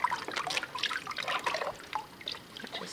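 Water dripping and trickling out of wet paper pulp pressed under a screen during hand papermaking: close, irregular small drips and splashes scattered through a quiet few seconds.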